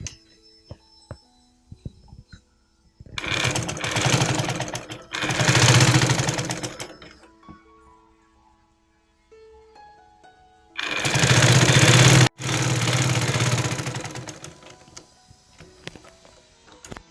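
A sewing machine stitches down a folded nighty hem in three sustained runs, each a few seconds long, with quiet pauses between them. The motor whirs loud and close, and no one speaks.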